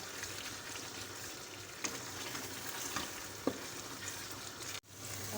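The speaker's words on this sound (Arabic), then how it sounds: "حنا كنحركو مره كنمعسو شويه هكا مطيشه" Honeyed tomatoes being stirred in a pan as they fry, a steady close sizzle with a few soft scraping knocks from the spoon, heard alone without talk.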